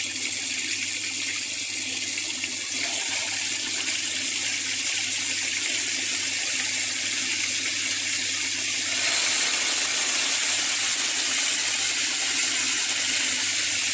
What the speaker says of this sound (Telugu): ఫ్రైకి సరిపడా ఆయిల్ వేసుకున్న తర్వాత ఈ ముక్కల్ని మూడుగా వేసి వేయించుకోవాలి